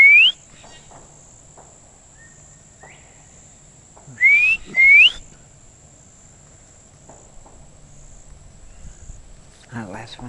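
Person whistling short rising bird-like notes, one near the start and a close pair midway, imitating a bird, over a quiet outdoor backdrop with insects and faint distant sounds.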